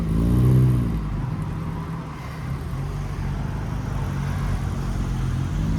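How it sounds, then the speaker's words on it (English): A classic MG with a centre exit exhaust pulls away at an outdoor car meet, its engine note rising and then settling into a steady rumble that stays fairly close throughout. "We got the little MG leaving."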